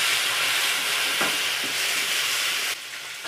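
Chopped onion and tomato sizzling in a hot pan for Nepali-style cooking, a continuous loud frying hiss with a brief stir near the middle and the sizzle dropping slightly toward the end.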